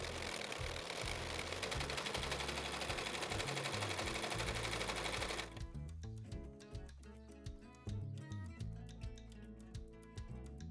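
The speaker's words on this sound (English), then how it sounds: "Now we're going to sew those two pieces together on the top." Sewing machine stitching two fabric pieces together for a handmade summer top, a fast, even mechanical whir for several seconds that then breaks into slower, stop-start bursts of stitching, close and fairly faint.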